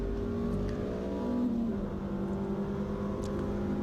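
Porsche Boxster S race cars lap a circuit in a 750 Motor Club relay race, a steady engine drone with shifting pitch and faint whines of other cars, heard without talking.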